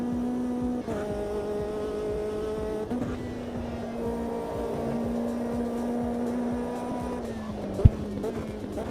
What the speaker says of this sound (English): You can just hear the engine note just not revving as freely as it does in every other gear.